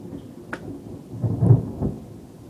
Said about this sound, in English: yeah, I don't know if you can hear that, but that's thunder.